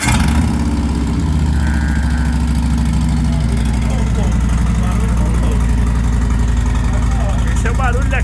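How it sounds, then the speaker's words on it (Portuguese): A Harley-Davidson motorcycle engine idles steadily with a loud, continuous low rumble, while people talk over it throughout. "Esse é o barulho da queima regular do combustível."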